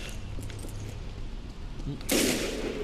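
Gunfire erupts in Resident Evil 5 as a loud burst of shots cuts in after a stretch of quieter game noise, sharp and close.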